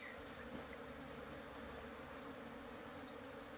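Bees swarm around a hive in a Vietnamese forest beekeeping setting, where dozens of colonies are kept, producing a steady, dense, continuous buzzing drone at close range for the whole stretch, with no voices.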